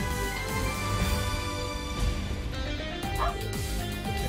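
Dog barking and yipping in the video game Trails of Cold Steel IV, short repeated barks over game music and effects, with a person talking throughout.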